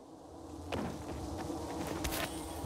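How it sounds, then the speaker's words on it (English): Bees buzz in the Dying Light 2 video game as a steady, close drone, with brief scuffing or footstep-like noises on top. "Okay, bees, chill out"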